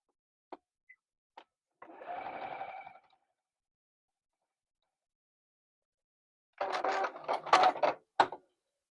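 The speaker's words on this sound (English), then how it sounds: "I'm going to sew this down 1/4 inch." A sewing machine stitching a quarter-inch quilt seam, heard after a few small clicks as a short whirring run, a pause of silence, then a second, choppier burst of machine stitching, close and fairly quiet.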